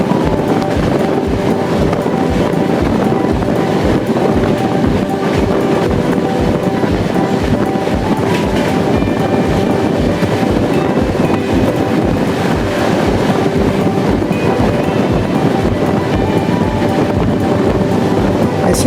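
An electric express train, the Chennai Shatabdi hauled by a WAP7 locomotive at over 110 km/h, runs steadily on rails, a continuous rumble with rhythmic clickety-clack of wheels over joints, close and loud throughout.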